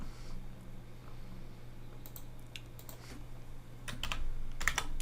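Keys on a computer keyboard being typed and pressed for Control A and V shortcuts, with scattered close clicks that cluster into quicker bursts toward the end over a low steady hum, and no talk.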